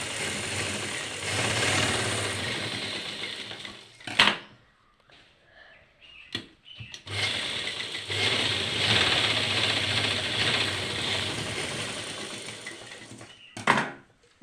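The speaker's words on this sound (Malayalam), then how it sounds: "എൻഡ് കറക്റ്റ് ചെയ്ത് നമുക്ക് സ്റ്റിച്ച് ചെയ്യാം" A sewing machine stitches fabric pieces together at a garment crotch seam, running in two long close bursts with a pause between them, and a sharp mechanical clack at each stop.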